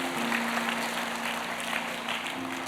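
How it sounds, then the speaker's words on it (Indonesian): A church congregation claps in steady, even applause, a fairly faint, dense patter under a constant low hum. "Kasih tepuk tangan buat Tuhan Yesus, saudara."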